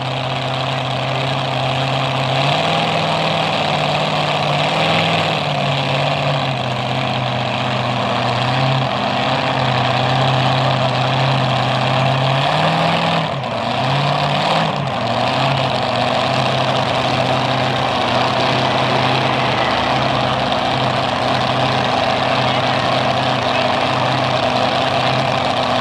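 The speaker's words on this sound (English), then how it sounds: "we have 2 super mod trucks. This is going to be something." Two super mod pulling trucks rumble at a truck and tractor pull in Melbourne, Ontario, their heavy engines idling loud and close, with the pitch shifting as they rev up and settle back down over roughly half a minute.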